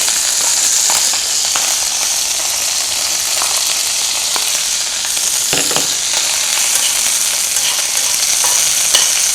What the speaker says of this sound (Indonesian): Dia kalau air kena minyak panas itu akan seperti ini, nyiprat-nyiprat.